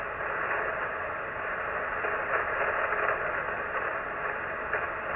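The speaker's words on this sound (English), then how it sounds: "generating all this noise on the band tonight" Steady crackling static fills the 40 m amateur radio band, noise raised by storms stretching across a wide area. The hiss stays even and fairly faint throughout, with slight surges and no voices.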